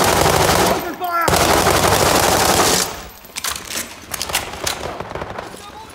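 Rapid machine-gun and rifle fire crackles loudly in the World War 3 video game, dense bursts for about three seconds, then thinner scattered shots with a radio voice underneath.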